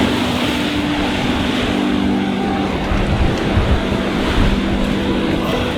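Ocean surf crashing on a Hawaii shoreline, a loud continuous roar of breaking waves with steady broadband wash throughout and slight surges near the end.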